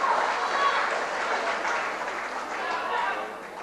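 Crowd cheering and applauding for a female weightlifter from Nauru at the 1998 Oceania Weightlifting Championships, a steady broad roar of cheers and clapping sustained throughout with no break.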